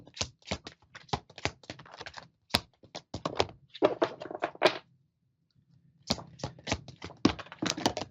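Quiet, close-up bursts of tarot-style reading cards being shuffled and riffled, with sharp taps and flutters in irregular runs, separated by a short pause of near silence.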